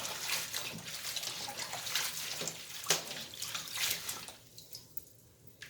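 Lacinato kale greens are dunked and shaken in a basin of water, sending up close splashing and trickling sounds with irregular sloshes that die down to a few faint drips near the end.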